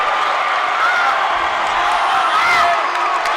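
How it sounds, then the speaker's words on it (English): A home crowd of Panther fans roars and cheers during a tight varsity boys basketball game against Bryant, a loud sustained wall of shouting and whooping with some clapping mixed in. "And this Panther crowd is electric."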